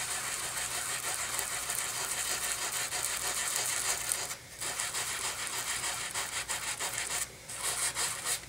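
Continuous rough rubbing of sandpaper on an old sanding block, distressing paper, close and steady, with two brief pauses in the scraping strokes.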